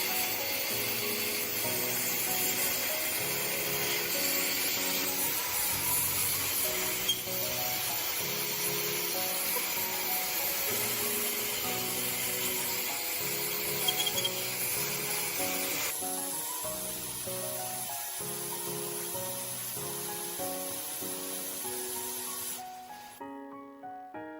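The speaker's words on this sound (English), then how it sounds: "Let's go ahead and give them a good spray down to clean them up." A long, continuous hiss of cleaner sprayed on the intake valves of a BMW Z4 E89 N20 engine, with slight variations before cutting off near the end, close and loud, no voices.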